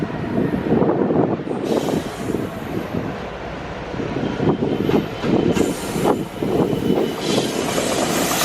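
A train rolls into Crewe station with a loud, sustained rumble of wheels and wagons, bursts of squealing and hiss rising over the steady roar close by.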